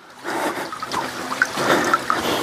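Water trickles and gurgles over slippery, moss-covered rocks in a mountain stream, a close, continuous burbling with small splashes and drips.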